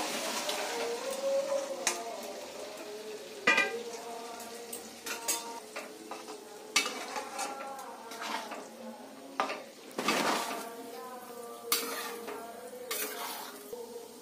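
Boiled peas tipped into cooked-down masala in a pot for ghugni, giving soft wet thuds and clinks of a spoon against metal, a few sharper scrapes among quiet kitchen noise.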